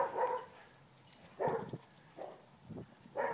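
Dogs play together, giving several short, gruff barks and yips with growly mouthing sounds in between, arriving in irregular bursts at close range over a quiet background.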